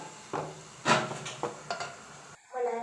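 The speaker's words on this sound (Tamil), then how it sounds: "பீட்ரூட்டை நல்லா வதக்கலாம்." Beetroot sautéed in Dalda in a pan for halwa, with a few distinct scraping stirs and light clinks over a soft sizzle, fairly close.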